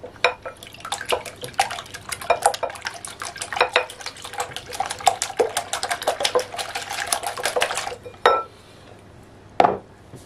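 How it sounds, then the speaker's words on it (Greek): A spoon stirring a batter of milk in a bowl, a dense run of close clinks and scrapes against the bowl that stops, followed by two isolated knocks, with no talk. "Ανακατεύουμε καλά."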